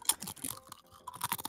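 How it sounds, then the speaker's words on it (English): Crunching from someone eating a crisp, a quick run of dry, crackly bites and chews up close, with short pauses in between and no talking. "I'm just going to eat a crisp."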